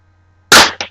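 A G1 airsoft BB pistol fires one sharp, loud shot from about three or four meters away, followed by a brief second snap, with no voices.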